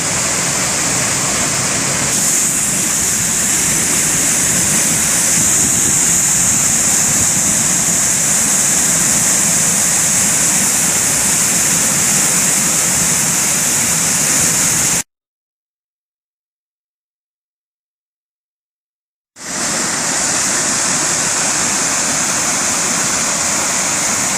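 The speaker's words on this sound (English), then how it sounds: "It's not even supposed to be a waterfall." Water pours steadily over rock in a rainy winter setting, a broad continuous roar that runs unbroken, drops out briefly, then resumes just as loud.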